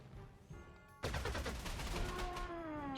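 Machine-gun bursts in the war strategy video game Panzer Corps 2 as a fighter plane is shot down, with a faint tone first, then a sudden loud rattle of rapid fire over fading musical tones.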